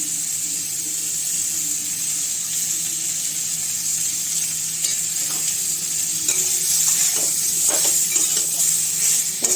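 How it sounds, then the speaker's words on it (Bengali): Taro, just salted and dusted with turmeric, is stirred and fried in a pan, giving a steady sizzle with scraping spoon strokes that grow busier toward the end; no one speaks. "একটু নেড়ে চেড়ে"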